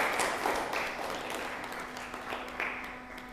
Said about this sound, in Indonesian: kita berikan aplaus dulu ya untuk hari ini